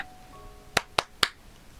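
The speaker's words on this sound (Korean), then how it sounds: "어린 왕자는 손뼉을 짝짝 쳤다" Three sharp claps ring out alone in a quiet room, evenly spaced about a quarter second apart, crisp and close.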